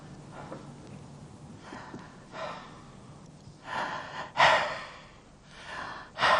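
Soft breaths in and out, several audible exhalations swelling and fading at irregular intervals, close and fairly quiet.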